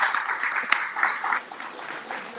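A small crowd applauds at a casual hangout after a presentation, steady mid-level clapping from several people with faint voices mixed in.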